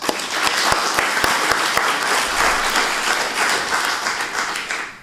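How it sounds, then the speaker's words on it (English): An audience at a software developer conference gives a warm round of applause to welcome a speaker, close, dense clapping with some sharp individual claps standing out, holding steady before fading at the end. "So I would like you all to give a very warm and welcoming applause to Brendan McAdams."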